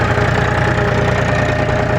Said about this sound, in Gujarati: જુઓ તમે આ છે અમારું ટ્રેક્ટર છે